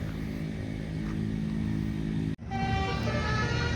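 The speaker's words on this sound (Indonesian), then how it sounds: "itu ada suara bis ya, klakson, karena memang di bawah sana itu adalah jalan" A bus horn sounds from the road below a hillside tea-plantation resort in Subang, Indonesia. Passing traffic drones beneath it before a sustained, tonal horn blast sounds after a brief cut.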